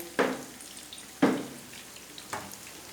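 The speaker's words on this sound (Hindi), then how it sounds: "तो इसी तरह हम दोनों साइडों से गोल्डन फ्राई कर लेते हैं।" A sandwich frying golden on both sides in a pan, three sharp bursts of sizzle each fading off, as if the sandwich is pressed or flipped, close and without talk.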